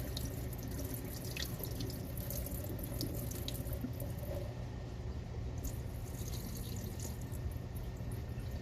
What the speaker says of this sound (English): you're going to want to drain your French fries